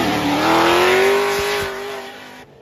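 A supercharged LS-swapped Nissan 240 drifting, its V8 revving loud and close in one sustained, rising-then-steady howl with tire noise beneath, fading sharply at the end.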